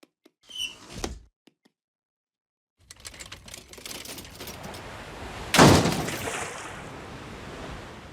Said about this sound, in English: Can you open the sliding door?